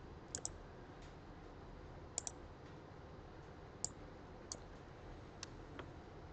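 Computer mouse clicks, several sharp isolated clicks spaced about a second apart over faint steady background hiss.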